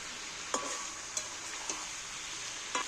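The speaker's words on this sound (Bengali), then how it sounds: "এইভাবে একটু নেড়ে নেড়ে একটু ভেজে নেবো" Chicken meat fries in oil with a steady hissing sizzle, while a utensil stirs it with four sharp metallic clinks spaced unevenly against the pan, close and moderately loud.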